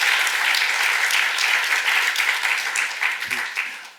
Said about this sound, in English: Can I have a round of applause for all those lovely organizations as well?